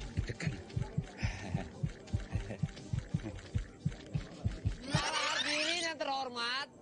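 Rhythmic heartbeat sound effect in an Indonesian comedy film, a run of regular low thumps that gives way to a brief swell of voices or laughter near the end.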